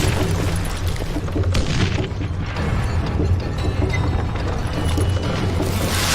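Dynamite blast in the Western shooter game Call of Juarez: Gunslinger, a loud, sustained rumbling boom with crashing debris that fills the whole stretch without a clear break.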